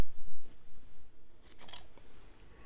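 Scissors snip through strands in a kitchen, two or three quick crisp cuts near the middle amid quiet handling noise.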